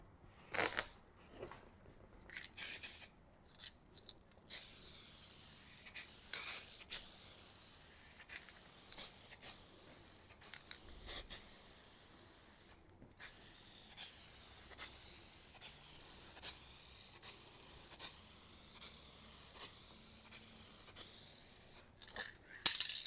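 Aerosol spray paint can hissing onto vinyl in long continuous bursts with brief pauses between passes, close and steady, no talking.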